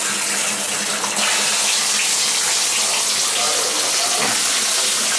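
Water from a leaking shower head over a tub, a steady loud running and splashing spray that fills the whole stretch with little change, with a brief muffled thump partway through.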